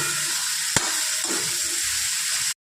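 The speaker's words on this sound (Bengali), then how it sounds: "এইভাবে 10 মিনিট এটিকে ভালোভাবে নাড়িয়ে চাড়িয়ে নিতে হবে" Steady oily sizzling of catla fish oil frying with turmeric fills the clip, with a sharp scrape of a spoon stirring the pan and a few softer clinks, then it cuts off.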